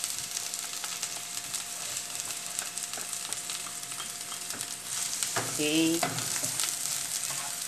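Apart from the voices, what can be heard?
garlic and onions frying in a pan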